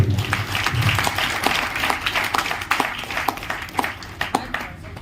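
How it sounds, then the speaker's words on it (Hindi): An audience at a hotel meeting in Raipur, Chhattisgarh, claps steadily and moderately loud, with a dense patter of hand claps continuing for several seconds. "गोविंद भाई के लिए एक बार जोरदार ताली होना चाहिए"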